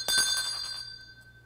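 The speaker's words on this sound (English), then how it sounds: "we're going to ring the bell to end the service" A bell rung once to close an Easter worship service, one bright metallic strike with a sustained ringing tone that decays slowly over about a second, heard alone and fairly close.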